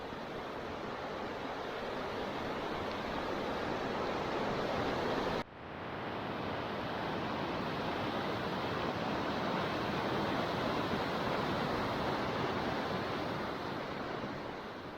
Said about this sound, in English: you have this roaring whitewater river